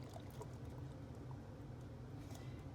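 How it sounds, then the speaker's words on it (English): Chickpea liquid from canned chickpeas is poured for hummus, a faint soft trickle over steady low background noise. "I'll just put in maybe a 1/4 cup of chickpea juice"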